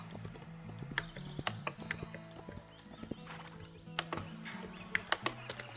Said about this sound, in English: look, there's a red horse here